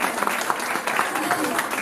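Guests clap at a surprise birthday party, a short burst of lively applause from a small crowd, with voices talking and calling out over the clapping.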